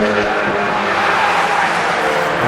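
Mazda MX-5 race cars battling closely at Brands Hatch, a loud continuous engine roar with tire noise, steady and close throughout.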